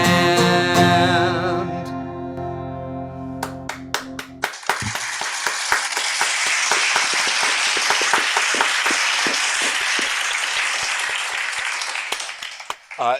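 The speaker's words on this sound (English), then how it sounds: "That applause is an app on the phone" Recorded applause played through a phone app at a virtual open mic, a sustained wash of clapping that starts after a final guitar chord and holds steady for several seconds before cutting off.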